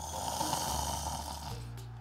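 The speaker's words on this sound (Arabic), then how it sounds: "يا عيال ذا ازعجنا بشخيره" Loud, steady snoring from a sleeping man in a comedy scene drones on continuously, rough and close, shifting slightly in pitch partway through, with no talk over it.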